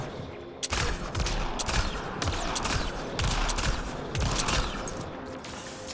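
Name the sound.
turret gunfire in video game Mass Effect: Andromeda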